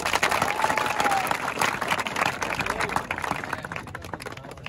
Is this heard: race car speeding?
no